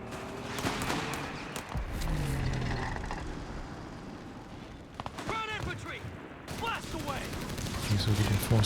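Battle sounds from Company of Heroes 3 with MG42 machine gun fire, rapid bursts and explosions layered in dense, loud combat under a commentator's continuous talk.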